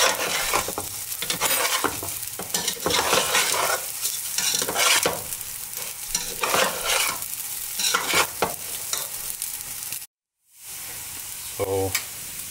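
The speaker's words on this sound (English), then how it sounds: "At this point, you need rigorous stirring." Chicken pulao frying in a pan is stirred vigorously, with repeated scraping and clattering strokes over a loud, steady sizzle. Near the end the sound cuts out briefly, then resumes.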